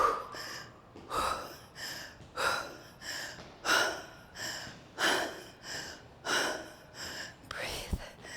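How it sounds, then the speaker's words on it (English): Heavy, rhythmic breathing during a HIIT workout, with about eight loud, close sharp breaths, evenly spaced roughly a second apart and heard alone. "You hear me breathing?"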